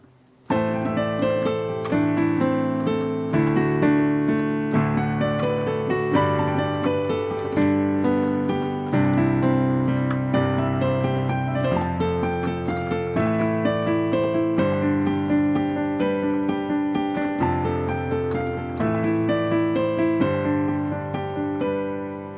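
A solo piano plays a steady right-hand melody from a song over held chords, notes ringing clearly at an even, moderate pace without any voices.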